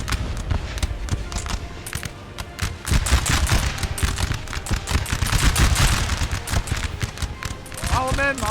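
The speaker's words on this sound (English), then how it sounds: "Russia shooting from cover." Musket volleys crackle continuously in Napoleon: Total War as Russian troops fire from cover, a dense rolling rattle of many shots at mid distance, with a voice speaking briefly near the end.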